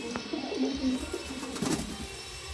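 Pigeons coo close by in a loft, a few soft throaty rolling calls in short bursts over a quiet background with a faint click.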